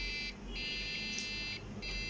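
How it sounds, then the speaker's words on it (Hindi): A Dell Optiplex 755/745/760 motherboard sounds a RAM error warning: faint, high electronic beeps repeating in a steady pattern over a low hum, with no voices. "लेकिन फिर भी डिस्प्ले देते वक्त ये बीप दे रहा है।"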